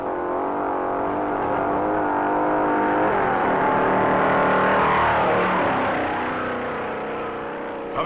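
1957 NASCAR race cars roar along the Daytona beach course, a loud steady engine drone that swells and fades slightly as cars pass, with no talk.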